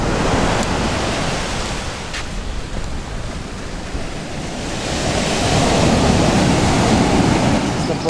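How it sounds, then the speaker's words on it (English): Atlantic Ocean waves at Muxia make a loud, continuous roar of surf, swelling stronger toward the end. Wind buffets the microphone and no one speaks. "And here is the Atlantic Ocean."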